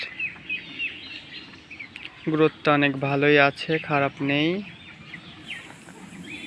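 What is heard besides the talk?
young farm chickens chirping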